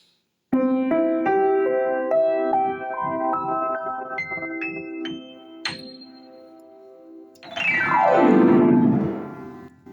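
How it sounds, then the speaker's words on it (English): An upright piano from around the 1930s plays a rising sequence of single notes, then a loud ringing glissando sweep down the keys, close and unaccompanied. "Upright piano, and it sounds like this."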